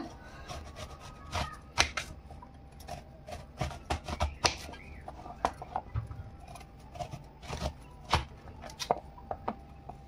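A knife cuts through a firm, hard guava on a board, giving a series of sharp, irregular crisp chops and clicks, close and distinct, with brief pauses between strokes and no talking.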